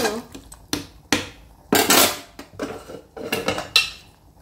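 A series of sharp metallic clanks and knocks as a pressure cooker lid is handled and closed over a pot of bamboo shoot palya, about ten irregular hits, close and fairly loud.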